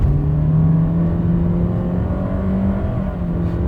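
A 2017 Toyota Corolla GLi with the 1.8 engine accelerates hard, a loud, steady engine drone heard close up from inside the car with the pitch rising slowly and no talking.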